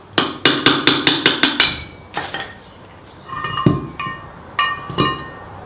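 A hammer strikes a chisel on the body of a Discovery 1 being chopped for an off-roader. Seven sharp, evenly spaced metallic blows ring out close by, then a pause and several scattered clinks and taps.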